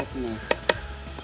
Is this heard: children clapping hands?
no